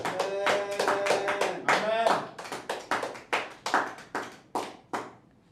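A church congregation claps, starting as scattered quick clapping and then settling into about a dozen sharp, separate claps that slow and fade, with a few spoken words at the start.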